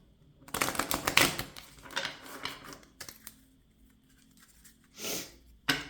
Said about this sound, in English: Let's give it one shuffle.